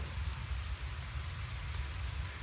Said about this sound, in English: in the forests of Washington State, rainy Washington State. It's really starting to come down now.